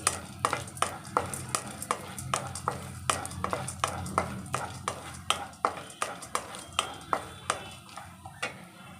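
Chana dal and sesame seeds dry-roasting in a pan for idli podi, a steady run of sharp scraping stirs from a spatula beating a regular rhythm over a soft, continuous sizzle, close and fairly loud.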